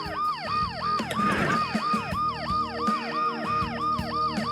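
An ambulance siren in the game Dead Synchronicity wails in a repeating up-and-down sweep, loud and close, with a brief burst of crashing noise early on beneath the continuous cycling tones.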